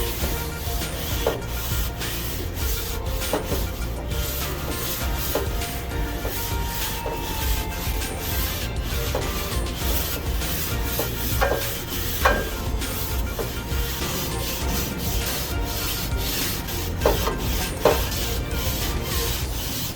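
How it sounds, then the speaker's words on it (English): A pad scrubs avocado oil into the flat steel cooking surface of a Blackstone griddle, giving a steady, close rasping rub that runs throughout with occasional louder scrapes and no talking. "we're going to put a little bit of the avocado oil on. Scrub that in."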